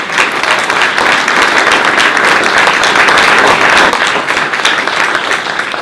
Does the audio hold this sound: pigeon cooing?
no